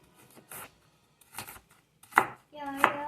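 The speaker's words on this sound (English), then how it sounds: "This sausage is too hard for my little knife." A small knife cutting through hard sausage in a home kitchen with kids: a few short, separate chopping strokes against a board, with soft voices nearby.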